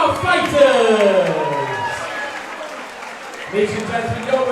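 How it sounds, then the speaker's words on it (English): A fight crowd at a hybrid boxing event applauds and cheers both boxers after the bout, with clapping and whoops running underneath a loud announcer's amplified voice. "can we please have a big round of applause for both of our fighters?"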